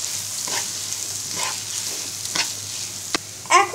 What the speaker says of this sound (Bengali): এবার কিছুক্ষণ ভেজে নিব